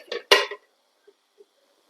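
A metal pot clinks as its lid is set on while paneer curry cooks, one sharp clatter followed by two faint small taps, then quiet.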